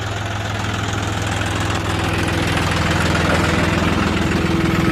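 A John Deere 5310 tractor pulling a nine-tine spring cultivator, its diesel engine running loud and steady with a close, even throb that holds for the whole stretch and then cuts off abruptly, with no voices.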